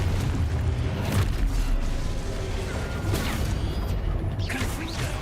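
Confringo blasting spells from Hogwarts Legacy go off as repeated booming bursts over a dense, continuous rumble of game effects, with sharper crashing hits standing out at a few points.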